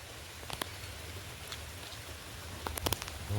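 Heavy rain falls steadily outdoors, a soft, even hiss with a few sharper drops standing out, heard alone without voices.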